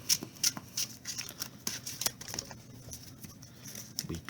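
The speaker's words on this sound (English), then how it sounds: "So, we did some shuffling." Magic: The Gathering cards being riffled and bridged in short crisp bursts, a quick sequence of papery flutters and taps, close and fairly quiet.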